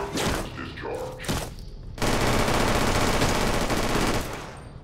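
Robot weapons in Fallout: New Vegas let loose a loud, dense burst of rapid gunfire that begins after a short pause and holds steady for nearly three seconds before easing. A synthetic announcement plays beforehand.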